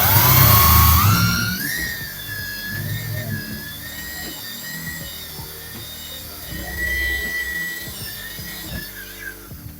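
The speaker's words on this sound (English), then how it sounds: "hold the dust collector and just start drilling" A power drill with a dust collector whines steadily at high pitch, boring through a wood panel for several seconds with a rough, grinding undertone, close by and continuous.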